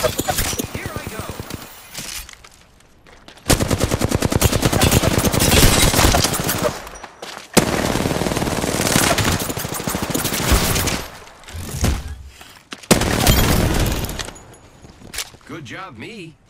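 Rapid video game gunfire rattles in loud sustained bursts with brief pauses between them, mixed with game effects while a player talks over it.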